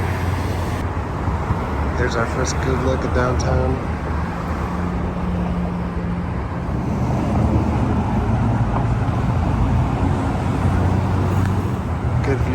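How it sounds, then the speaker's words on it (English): Car traffic rolls along the roadway beneath the Brooklyn Bridge, heard from the pedestrian walkway above as a steady, loud rumble and whoosh of passing vehicles, with someone talking over it. "Cars going by underneath us."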